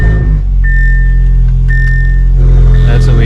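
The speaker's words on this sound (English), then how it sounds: "Now let's we start up the car." An Audi car engine cold-starts and settles into a loud, steady idle with a strong low hum and a thin whine riding on top.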